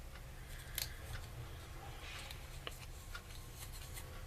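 Scissors snip and rustle faintly at close range during a Halloween craft project, a few quiet irregular cuts over low background hum, no talking.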